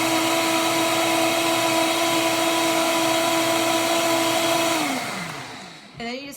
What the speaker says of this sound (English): I use a Vitamix blender.